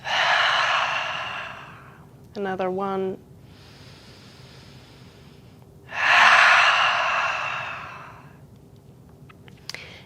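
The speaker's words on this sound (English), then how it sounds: "Stick your tongues out, lion's breath." Lion's breath yoga exhales pushed out with the tongue out: two long, forceful, breathy rushes of air, with a short spoken remark between them.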